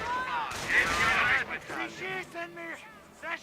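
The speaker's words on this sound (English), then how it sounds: "They're shooting at us!" A rattling burst of gunfire from the video game Company of Heroes fills the first second or so, followed by a voice talking close up with the shooting fading behind.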